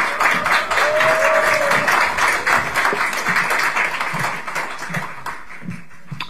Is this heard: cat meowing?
no